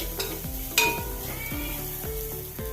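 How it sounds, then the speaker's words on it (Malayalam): Grated coconut and onion frying in a pan for kovakka thoran, stirred with steady scraping strokes over a continuous close sizzle, with a couple of sharper utensil clinks; no talking. "ഇനി ഉള്ളിയും തേങ്ങയും ഒന്ന് വാടി വരണം അതുവരെ ഇളക്കി കൊണ്ടേയിരിക്കുക"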